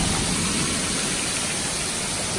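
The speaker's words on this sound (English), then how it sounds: "it's raining." Steady rain pours outside a house that is flooding, making a dense, even hiss throughout with no pauses and no talking.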